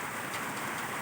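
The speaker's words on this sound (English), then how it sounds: "This is the sound of a pitter patter of rain" Steady rain falls during a storm, a dense, even patter of drops on surfaces that stays constant and moderately loud throughout, with no voices.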